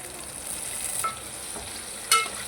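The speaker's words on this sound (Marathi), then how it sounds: "टॅमॅटो चांगला फ्राय करून घेऊ." Tomato and onion fry quietly in a pan with a low steady sizzle, broken by two brief sharp stirring clinks, and no one speaks.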